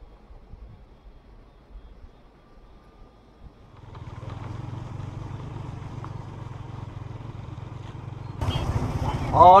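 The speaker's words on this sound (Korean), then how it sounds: "아 이거 오토바이 지금 시험 보는 거야? 연습하는 거야?" A motorcycle engine on a licence-test practice course in Sapa, Vietnam, drones steadily at a moderate distance, its pitch rising into a louder rev near the end.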